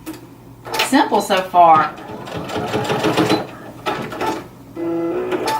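A sewing machine stitches in short bursts, tacking down the pointed corner of a fabric basket. Its rapid whirring runs loud and close, broken by pauses, with a voice speaking briefly over it.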